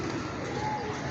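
Soft, low cooing from a black-and-white breeder pigeon runs throughout the short clip, a continuous murmuring coo with faint background noise and no clear talking.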